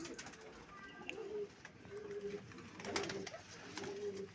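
Several pigeons coo in soft repeated phrases at a loft where pairs have raised their young, spaced low calls recurring steadily at moderate distance with faint background bird noise.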